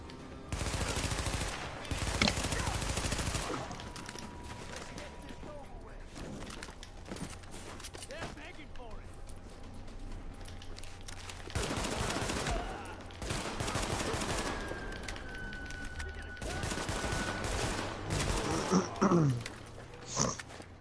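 Bursts of rapid gunfire from enemies in Tom Clancy's The Division, loud volleys at the start, middle and end with quieter gaps between, someone talking over parts of the action.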